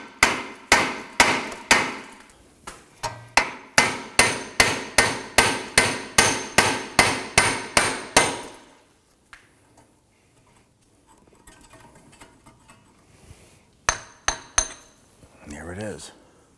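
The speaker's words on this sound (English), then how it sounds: "Now I'm going to use a hammer here and try and tap the back side of the hub flange itself." A hammer taps the back of a wheel hub flange on a Volvo XC90 rear axle, about twenty sharp metallic strikes in a quick, even rhythm, then a quiet gap and a few final clanks.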